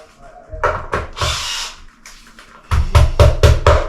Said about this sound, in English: I'm just trying my new Bosch drill from Magnet